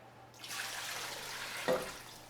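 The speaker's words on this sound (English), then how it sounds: "then I'm going to add about 6 cups of water." About six cups of water pour into a soup pot for a kale and sweet potato soup, a steady splashing rush lasting a couple of seconds, moderately close, with a brief louder splash near the end.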